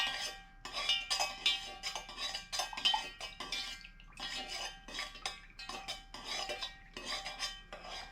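A spoon stirs a melted wax mixture in a container for candle wax melts, giving repeated scraping strokes and light clinks against the sides in uneven bursts with short pauses.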